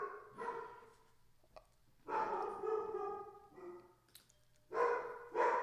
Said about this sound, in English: Sounds like my dog in the background's ready for me to be done as well.